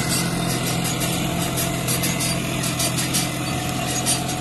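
A John Deere 5105 4x4 tractor with a 40 hp engine runs at a steady idle, a close, even mechanical drone with constant low humming tones and no talking.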